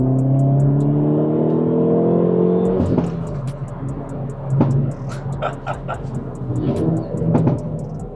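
A 2019 Hyundai i30N Fastback Performance engine revs up loudly, then settles into crackling exhaust pops and bangs, with someone talking over part of it.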